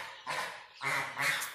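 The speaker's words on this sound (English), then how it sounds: "There's the geese, which are" Geese kept in a barn honk in three close, loud calls over a second and a half.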